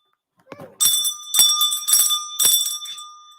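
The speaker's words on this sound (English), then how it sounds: "where's my bell?" A bell struck repeatedly, with about four loud, clear metallic rings in an uneven rhythm, each leaving a bright sustained tone that fades at the end, heard alone without talking.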